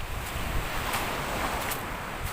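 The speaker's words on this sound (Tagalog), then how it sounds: "Sobra lang po talagang lakas ng alon ngayon" Strong waves at high tide on a Batangas beach rush and hiss steadily, mixed with wind buffeting the microphone, with faint surges of surf breaking throughout.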